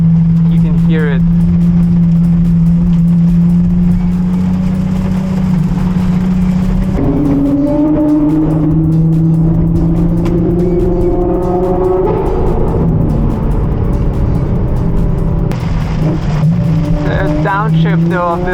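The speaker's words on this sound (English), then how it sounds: "As I'm cruising in this gear, you can hear it." A Ferrari 812 GTS with a Novitec exhaust cruises in gear, its engine a steady, loud drone heard from inside the cabin, with gentle swells in pitch as the revs shift. A voice talks over it at times.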